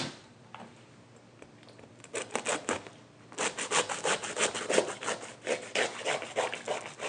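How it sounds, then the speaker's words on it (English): A serrated knife saws through a durian's spiky husk, producing rough, rhythmic rasping strokes, faint at first and then louder and closer as the sawing speeds up. "And using a serrated knife is easier to saw through it."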